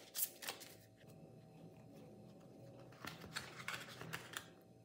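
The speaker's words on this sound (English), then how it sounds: "And shuffling is easy." Small Golden Art Nouveau tarot cards being shuffled, giving soft, quick papery riffles in several short bursts, fairly close but quiet, with no talking.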